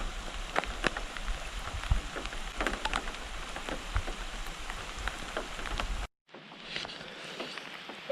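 Rain patters steadily onto a tarp at a backcountry canoe campsite in an Ontario forest, a dense close drumming with sharper individual drops, briefly cutting out before resuming.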